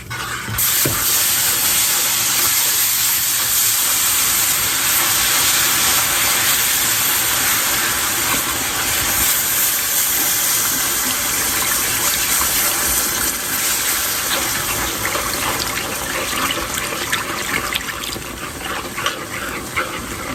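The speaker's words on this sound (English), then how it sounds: "Now when you pour in your broth, you want to continue to stir" Broth poured into a pan of chicken and onion gravy, a loud continuous sizzling gush that keeps going for the whole stretch, with stirring noises running underneath it.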